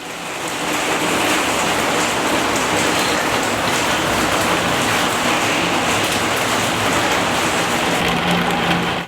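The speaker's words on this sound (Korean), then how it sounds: "갑자기 내린 소나기에 갇혀버렸다" A sudden heavy rain shower pours down steadily at a traveler camp in Mongolia, a dense continuous hiss of drops drumming on surfaces, loud and unbroken throughout.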